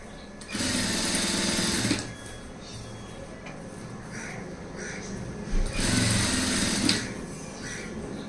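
A sewing machine stitching thread-rolled piping runs in two loud steady whirring bursts with a quieter stretch between them, where faint softer sounds can be heard.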